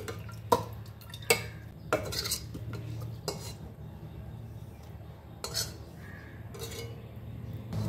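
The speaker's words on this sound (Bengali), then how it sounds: "কড়াইয়ে যে তেল মশলা লেগেছিল সেটা একটু কাকিয়ে দিয়ে দিলাম" Metal utensil scraping oil and masala stuck to a wok while making mutton korma, several sharp strokes spread out over a steady low background hum, no talking.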